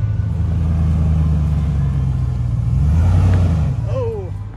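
A Range Rover L322 engine rumbles steadily under load as the SUV climbs over a bump off-road, with a brief rising tone near the end.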